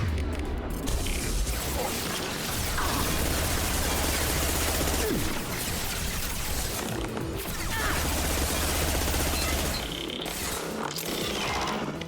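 Tempest submachine gun fire in Mass Effect 2, a dense, continuous rattle of rapid shots and crashes mixed with game effects, loud and sustained throughout with brief lulls.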